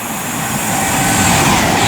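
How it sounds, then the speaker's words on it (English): A Pendolino passenger train approaches through Milton Keynes Central station, a swelling rush and rumble that grows louder over two seconds. "here comes a Pendolino from Birmingham to London"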